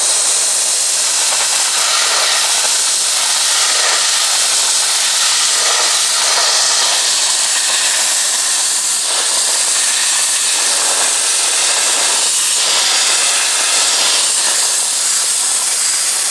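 Dry ice blasting against a V10 biturbo engine block makes a loud, continuous, close-up hiss with a rough, pulsing texture throughout, and no talking.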